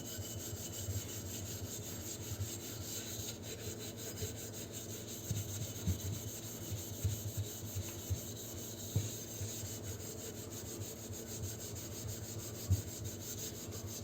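A burnt teapot is rubbed and polished by hand, producing a continuous rhythmic scrubbing and rasping of back-and-forth strokes at close range with no one talking.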